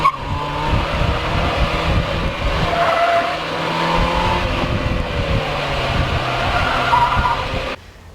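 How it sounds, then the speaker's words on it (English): Tire noise from a Mazda Miata on the move, a steady roar of road and rubber with faint engine drone underneath, fairly close, with a few squeal-like tones and no voices. "So my Miata, for instance, in this video, you can see all you heard is a tire noise."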